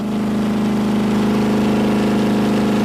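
A 460 hp Viper engine held at a steady 6,000 RPM with no oil and no oil pan, a loud, continuous, unchanging high-rev drone with a strong hum and no pauses.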